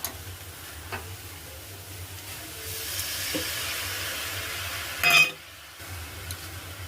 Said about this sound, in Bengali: আমি প্রথমে কড়াইতে চিংড়ি মাছটা আর শাকটা একটু মজিয়ে নেব।